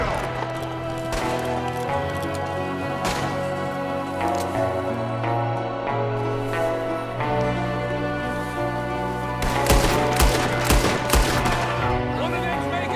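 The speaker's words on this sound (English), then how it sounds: "There's another one shooting through the window!" Rapid gunfire in Red Dead Redemption 2, Chapter 1 at Colter, as enemies shoot through a window: repeated sharp shots burst close and loud over a tonal game score, with a heavier volley near the end.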